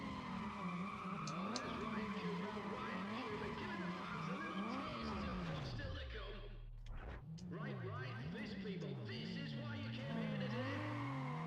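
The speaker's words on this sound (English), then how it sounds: "Just listen to those engines there, they go far off." Race car engines in the Need For Speed ProStreet video game, with Renault Megane and Clio cars in the event, rev up and down in repeated rising and falling shift cycles, briefly dropping low mid-clip before climbing again, loud and continuous.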